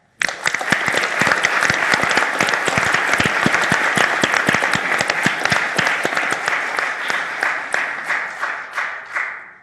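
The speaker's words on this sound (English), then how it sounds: "everyone who participated should be very proud of themselves and deserves a round of applause" Audience applause at the final round of a competition: loud, dense clapping from a crowd fills the room and holds steady for several seconds before thinning and fading out at the end.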